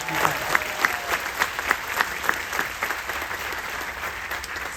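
Steady audience applause from a crowd at a Carnival cruise Q&A event, continuous clapping with a few louder individual claps standing out throughout.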